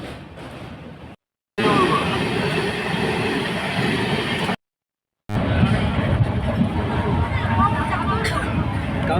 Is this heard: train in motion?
yes